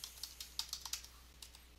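Light keystrokes on a computer keyboard, a quick irregular run of about a dozen soft clicks, close and quiet, with no voices.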